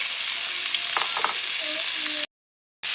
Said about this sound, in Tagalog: Sabay na rin natin yung sibuyas. Gisahin natin yung kanyang karne.